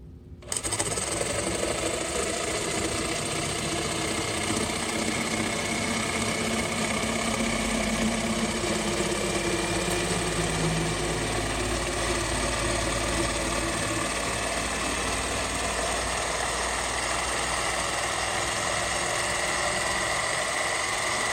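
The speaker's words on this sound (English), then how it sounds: "Jigsaw is pretty easy to use, pretty self-explanatory. You push the button and the saw moves." A jigsaw cuts through pink foam board with a continuous, buzzing motor whine that holds steady and loud throughout, with no speech over it.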